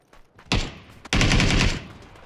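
Rapid gunfire from the battle game PUBG: a short burst, then a longer sustained volley of automatic shots, loud and close.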